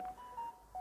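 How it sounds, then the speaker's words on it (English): A phone beeps on a garden balcony, giving short electronic tones in a quick irregular pattern, fairly faint and heard alone. "Oh, that's the phone"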